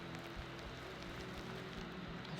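Steady rain falling on a rainy day, a soft, even hiss of drops on surfaces that stays faint and unbroken throughout, with no voices.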